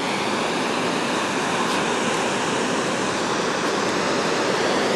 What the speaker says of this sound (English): What's the name of this waterfall?